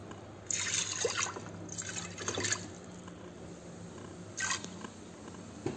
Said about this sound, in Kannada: ನೀರು ಹಾಕ್ತಿದ್ದೀನಿ.